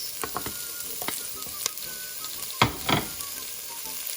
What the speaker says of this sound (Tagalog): So we have to stir it, making sure the onion and the garlic is turned light brown and cook, and also the ginger before we put the tomato